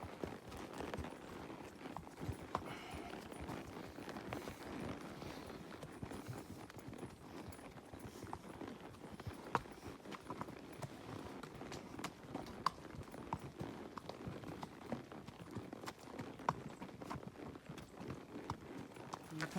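Pack horses walk a trail by a pond in the Uinta Mountains, hooves clip-clopping in a steady, uneven patter of soft thuds and sharper knocks, moderately close and continuing throughout with faint rustling behind.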